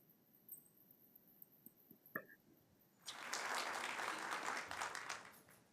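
Audience applause after a presentation at a Pride Month celebration: quiet room sounds and a faint knock, then clapping bursts in about halfway and holds steady before tapering slightly.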